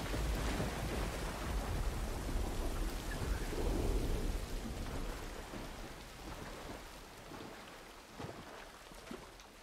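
Steady rain with low rumbles of thunder in The Last of Us Part 1, a continuous broadband wash that fades slightly toward the end, with no talking.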